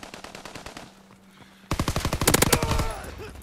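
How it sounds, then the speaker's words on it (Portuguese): Rapid automatic gunfire from Call of Duty WW2 on PS4, starting faint and sparse, then bursting into loud, close, sustained machine-gun fire that rattles steadily for nearly two seconds. "Caraca, eu já tava atirando no cara há séculos atrás"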